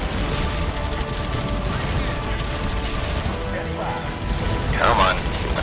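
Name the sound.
turret shooting in Halo Wars video game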